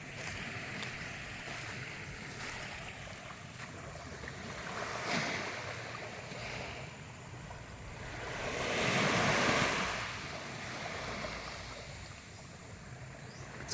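Ocean waves wash onto a sandy beach in Calauag, Quezon, a steady rushing surf with two swelling crashes and some wind buffeting the microphone, with no talking.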